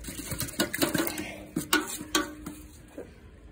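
A laptop dunked and sloshed in water, a series of sharp uneven splashes and plops close by, bunched in quick bursts with short pauses between.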